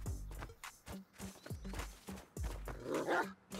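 A wolf attacks in an extraction-style shooter video game, with several close, heavy growl-like snarls and low thumps repeating in bursts over a few seconds, with a harsher rasping burst near the end.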